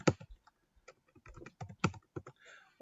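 Keys on a computer keyboard clatter in quick irregular bursts with short pauses, close and crisp, as text is entered into a spreadsheet.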